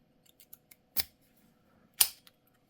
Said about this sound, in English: let's actually try one of these keys in the 90A Pro